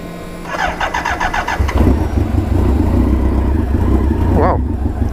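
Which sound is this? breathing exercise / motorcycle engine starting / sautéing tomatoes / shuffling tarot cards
motorcycle engine starting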